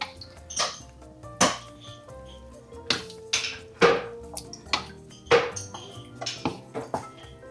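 Laing with shrimp paste (bagoong) is stirred in a cooking pot over medium heat, giving irregular metallic clinks and scrapes of a utensil against the pot, close and fairly quiet between taps.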